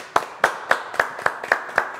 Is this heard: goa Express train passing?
no